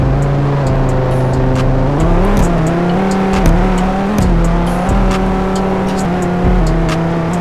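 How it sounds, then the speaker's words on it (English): A car engine drives in a Roblox video game, a loud, steady motor drone with shifting pitch and periodic rev changes, running continuously and alone. "my car sound is not disturbing"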